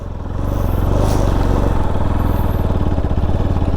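A motorcycle braking to slow down, its engine loud and close with a rapid, even throbbing beat and a faint clatter, heard alone without voices.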